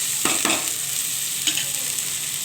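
Fish roe bhujia frying in a pan, a steady close sizzle broken by a few scraping stirs of the spatula, with no voices.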